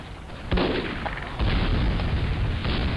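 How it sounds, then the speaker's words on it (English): An engineer's pump shotgun fires in Team Fortress 2, two loud booming blasts about a second apart over dense, continuous game noise, with no talk. "He's got a pump shotgun."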